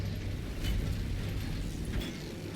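A generator charging up in the Warhammer 40K Space Marine 2 video game, heard as a steady low mechanical rumble with creaking, grinding tones and a couple of brief brighter clanks, alone and without speech.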